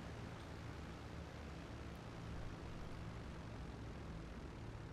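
A plane in the GTA 5 video game, flying near an aircraft carrier, gives a steady, dense engine drone with airflow noise. It is faint and unbroken throughout, with no voices.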